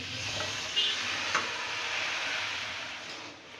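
Chopped Malabar spinach dropped into a hot pan of softening tomato and spices, giving a continuous close sizzle and hiss with a couple of small stirring clicks, no voices.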